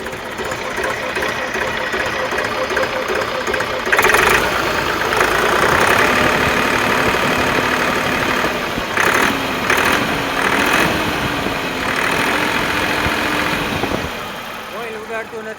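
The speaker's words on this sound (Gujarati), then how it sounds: "ખેડૂતનું ટ્રેક્ટર છે, ઘરઘરાવ." A farm tractor engine idles steadily and loudly nearby with a rough, throbbing mechanical drone and slight pitch wobbles, while someone talks over it.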